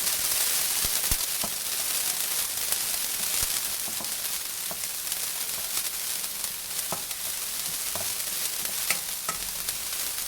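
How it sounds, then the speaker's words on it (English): Lemongrass sizzles steadily in a hot pan, a continuous frying hiss broken by sharp crackles and the occasional scrape of stirring, close and alone with no voices. "You just take that what is this, lemongrass? And then saute that until it becomes fragrant."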